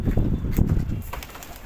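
Pigeons at a rooftop loft coo in low, soft murmurs, with a brief flutter of wings, close by and lasting only a moment.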